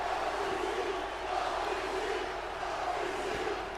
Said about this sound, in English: As you can hear from the crowd tonight here in Buffalo, New York